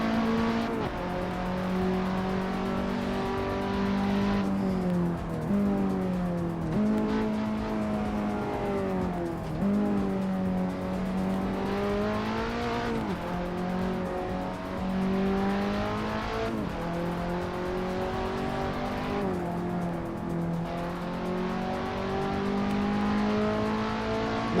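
A race car engine in the Assetto Corsa racing game, loud and close, with repeated revs rising and falling through gear changes, whining and droning steadily for over twenty seconds with no talk.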